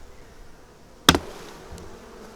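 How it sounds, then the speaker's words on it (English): A steady low buzz of many honeybees close by on a hive's cover board during an inspection, broken once by a sharp knock or clack partway through. "lots of bees on this cover board"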